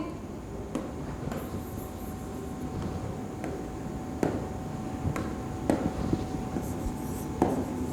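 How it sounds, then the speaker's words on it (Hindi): Faint pen or marker strokes scratch across a board during a classroom lecture, soft scattered ticks and rubs over a steady room hiss, with no talking. "ये थोड़ा सा मैं और क्लियरली लिख देती हूँ"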